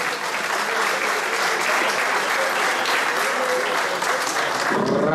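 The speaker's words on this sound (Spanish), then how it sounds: "venga, un aplauso para Manolín." An audience at a bowling (bolos) afternoon in Cabrales claps for a player, sustained dense applause from a close crowd lasting throughout with a faint voice underneath.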